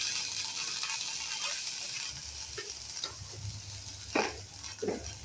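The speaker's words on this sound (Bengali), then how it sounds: "এই যে বিটটা আমি দিয়ে দিচ্ছি" Boiled beetroot goes into a hot kadai with a little leftover butter and is stirred, a steady sizzle broken by several close, distinct scraping strokes of the spoon toward the end.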